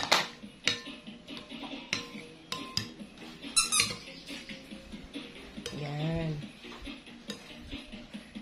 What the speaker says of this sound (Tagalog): Hahaluin nyo lang siya ng mabuti